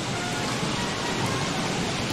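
Steady rain pouring down in the survival game Don't Starve: Shipwrecked, a dense, even hiss of falling water that stays loud and unbroken throughout with no voices.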